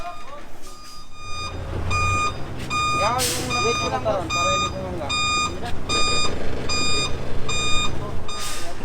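A truck's reversing alarm beeps in a steady, loud repeating pattern at a pool build site in the Philippines, with engine rumble underneath and bird chirps and voices scattered through.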